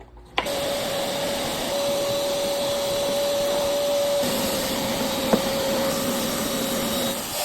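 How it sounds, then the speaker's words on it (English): An old Craftsman shop vacuum with a small hose cleans lint from a dryer, its motor roaring steadily and loud with a whistling hiss, starting abruptly and briefly knocking once against something partway through. "I went and grabbed the old vacuum too"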